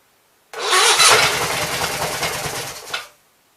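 Onan B43 twin-cylinder engine fed from a bottle fuel supply: it cranks and catches abruptly, runs loud and rough for about two and a half seconds, then cuts out quickly, close to the listener.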